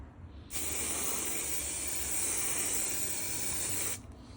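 A spray gun hisses out primer onto car bodywork in one steady, loud burst lasting about three and a half seconds, starting and stopping abruptly against a quiet room.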